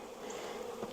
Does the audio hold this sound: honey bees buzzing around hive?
yes